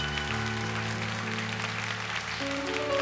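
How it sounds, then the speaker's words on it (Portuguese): Congregation clapping together in a church service, held on the same steady level throughout, with a sustained musical tone sounding underneath. "Vamos aplaudir o Senhor Jesus."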